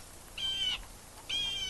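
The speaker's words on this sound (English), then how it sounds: "Hear that? Shh. That's a jay." A jay calls twice outdoors, two short harsh screeches repeated about a second apart, clear and fairly close against quiet background.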